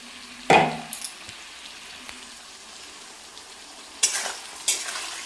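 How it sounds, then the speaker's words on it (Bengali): Ground cumin and green chilli paste fry in a pan, with a few short bursts of stirring and sizzling separated by quieter low background. "মশলাগুলো একটু কষিয়ে নেব।"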